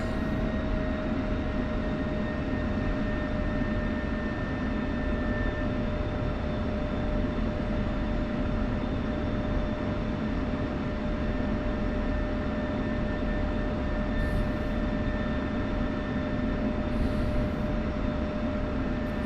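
An F-16 jet rolls down a runway in the DCS World flight sim, a steady droning engine roar with a constant hum and faint whine tones, even and sustained throughout with no talk.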